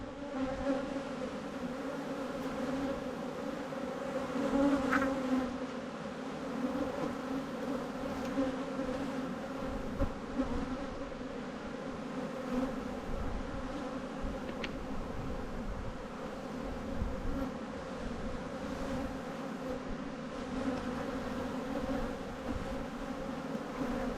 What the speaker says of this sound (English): Look at all the bees on that frame.